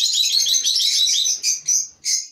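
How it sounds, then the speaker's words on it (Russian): Pet budgerigars chirp and warble in a rapid, bright chatter of overlapping high notes, close and lively, ending in a few separate sharper calls. "Веселая птица, она в хорошем настроении"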